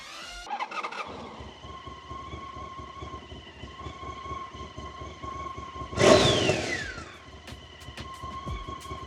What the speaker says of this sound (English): you hear the gear whine from the counterbalancers over the sound of the engine